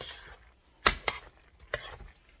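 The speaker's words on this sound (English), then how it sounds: "So I'm going to keep on just stirring this." A spoon works through a thick macaroni and cheese sauce in a pot. Several short, separate scrapes and knocks come through against a quiet kitchen background.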